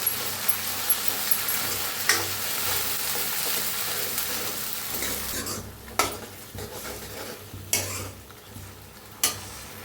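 Tomato paste lightly roasting with onion in a pan sizzles steadily while a spoon stirs and scrapes, with several sharp clacks against the pan in the latter half and no voices.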